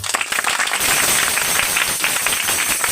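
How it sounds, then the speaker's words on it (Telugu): A church congregation claps loudly together, a dense burst of many hands that starts abruptly and keeps up as a steady, even patter of applause. "గట్టి కొట్టండి చప్పట్లు"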